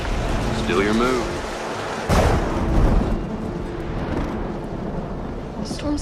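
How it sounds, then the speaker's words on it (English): A thunderstorm with steady heavy rain and a sharp crack of thunder midway, heard near a farm barn, with people talking over the downpour at the start. "The storm's getting worse."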